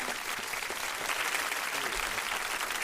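Steady applause and clapping fill a radio studio for a guest, a continuous dense patter at moderate level throughout, with no clear talking over it.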